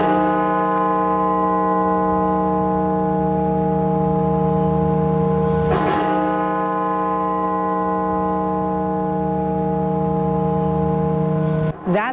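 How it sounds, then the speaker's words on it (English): Washington National Cathedral's funeral bell rings as a single long, deep resonant toll with rich overtones that hang and slowly decay, struck again about halfway through, loud and alone. "That sound is the funeral bell of Washington National Cathedral,"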